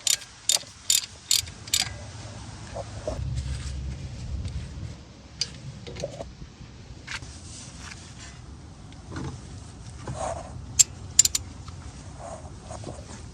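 A brake caliper pin on a Dodge Avenger's front brake is loosened and then tightened: a quick run of crisp ratchet clicks, followed by scattered softer mechanical clicks and clanks.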